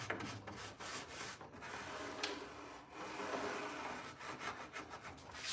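Wax rubbed by hand along a wooden drawer track: a continuous dry scraping and rubbing in steady back-and-forth strokes, close and moderately quiet, with no talking.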